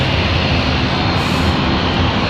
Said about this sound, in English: the Phenom's almost going the full length of the runway here